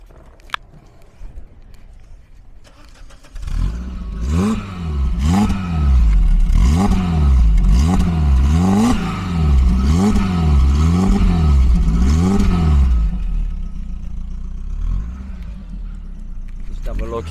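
A 1990 Peugeot 205 1.9 GTi three-door hatchback engine starts after a few seconds of quiet, then a loud, close exhaust note rises and falls through rhythmic revs before settling into a steadier idle.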